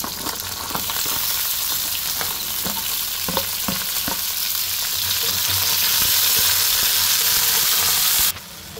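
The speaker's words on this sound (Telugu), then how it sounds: "ఇప్పుడు చింతకాయలు వేస్తున్నాను" Raw tamarind fries in oil alongside cumin and green chillies for pickle, giving a loud, steady sizzle broken by rhythmic stirring scrapes, then an abrupt drop near the end, with no voices.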